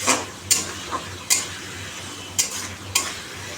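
Fried fish going into a thin, simmering curry with drumsticks, a low bubbling simmer under a handful of sharp spoon scrapes and clinks against the pan, spaced irregularly.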